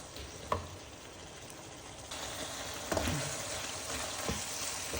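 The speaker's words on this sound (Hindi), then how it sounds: "शिमला मिर्च भी डाल के मैंने 2 से 3 मिनट इसको भूना है" Green capsicum and chicken keema frying in a pan make a steady, close sizzle, with a few soft clicks and scrapes of stirring and a slight rise in the frying hiss midway.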